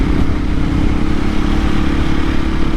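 A 2024 KTM EXC-F 500 Six Days dual sport motorcycle runs loud and close while being ridden, its single-cylinder engine giving a steady rumbling drone with wind and road noise and no voices.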